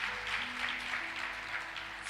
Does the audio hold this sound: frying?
no